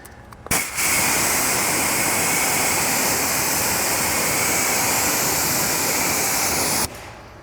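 Water rinses off a car during a wet gloss test, a loud, steady, close rushing hiss that starts abruptly and runs unbroken for several seconds before cutting off.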